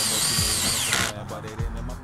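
A power drill whirs steadily at close range for about a second during solar panel add-on installation work, then cuts out, leaving quieter background sound.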